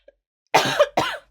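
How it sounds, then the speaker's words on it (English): Two harsh coughs in quick succession, close and loud, after a brief silence. "I can't stop coughing."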